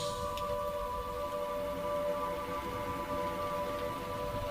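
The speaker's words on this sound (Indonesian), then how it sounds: "hanyalah suara hujan yang menderu di luar rumah ini" A steady, dense rushing of heavy rain outside a house fills the space without letup, with a faint constant hum running beneath it.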